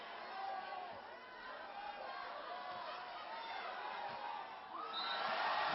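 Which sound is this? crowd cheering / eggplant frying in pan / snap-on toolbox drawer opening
crowd cheering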